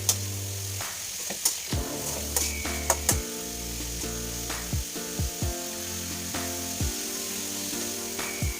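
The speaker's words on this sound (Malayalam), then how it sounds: "അങ്ങനെ നമ്മുടെ ചീരത്തോരനൊക്കെ ഞാനൊന്ന് ഇളക്കി" Spinach thoran stir-fry being stirred in a pan in a village home kitchen, with repeated scraping and clattering strokes of the spoon over a faint sizzle, loud and close throughout.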